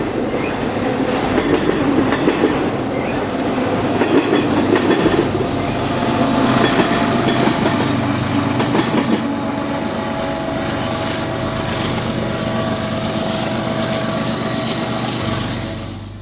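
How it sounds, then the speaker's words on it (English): The distributed power locomotive of a heavy auto-rack freight train rumbles steadily past up close, wheels clattering and a low engine drone persisting throughout before easing slightly at the end. "the DPU of this auto-rack train rumbles on by"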